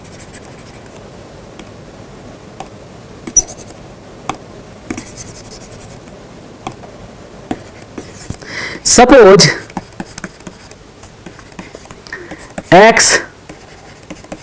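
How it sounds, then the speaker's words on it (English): Chalk or marker writing by hand on a board during a maths lecture, with scattered light taps and two louder scratchy squeaking bursts of strokes, while someone speaks. "let me write here."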